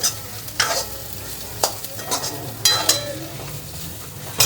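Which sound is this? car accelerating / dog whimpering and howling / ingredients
ingredients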